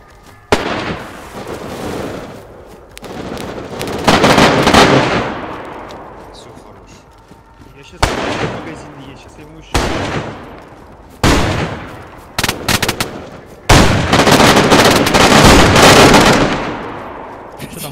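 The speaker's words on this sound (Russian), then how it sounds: "Это он трассерами стрелял." Repeated bursts of rapid automatic gunfire with tracer rounds ring out in the video game DayZ during a clan base raid, loud volleys broken by short pauses.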